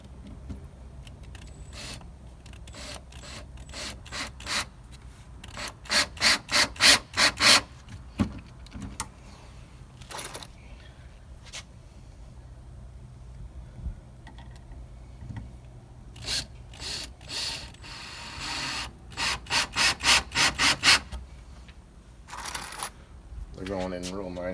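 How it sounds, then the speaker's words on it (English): Screws driven into wood while a sawhorse is built, in repeated bursts of rapid ratcheting from a power driver, close and sharp, with quieter gaps between screws and a person talking. "So I'm going to start 3 screws right down the middle."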